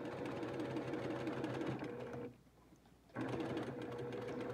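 A sewing machine back stitching over elastic on a fabric mask, a fast steady whirring hum that stops briefly for about a second, then resumes at the same pace, with no talk.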